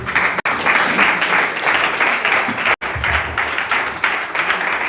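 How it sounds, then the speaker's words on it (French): A congregation at a prayer service applauds loudly and steadily, with dense clapping filling the whole stretch and only brief cuts in the sound. "Acclame Jésus."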